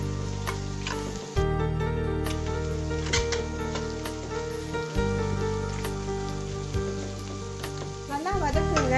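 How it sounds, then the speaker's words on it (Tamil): Tomato, coriander and green chillies sautéing in hot oil for a simple vegetable kurma, a loud, steady close sizzle with occasional stirring scrapes over a faint tonal hum. "நல்லா வதக்குங்க, நல்ல ஒரு வாசம் வருது."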